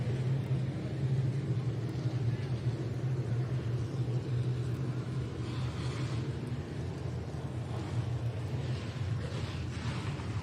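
Street stock race cars rumble past the start-finish line at Jacksonville Speedway, a steady low engine drone heard from a distance with no talk over it.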